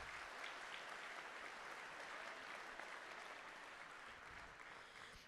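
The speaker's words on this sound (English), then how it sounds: "Let's get a round of applause for those certificates." A distant crowd at a miniature painting convention applauds award certificates, the sustained clapping fairly faint and even, thinning slightly toward the end.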